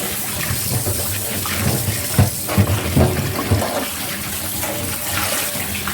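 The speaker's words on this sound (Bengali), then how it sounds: "এখন আলুটাকে আমি ভালো করে ধুয়ে নেব।" Four potatoes rinsed under a running tap, a steady broadband rush of water with a few louder splashes and knocks midway as the potatoes are handled, close and continuous throughout.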